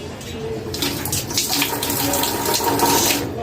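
Clothes being washed under a running tap, with steady splashing water in a sink growing a little stronger and continuing throughout, close by and loud.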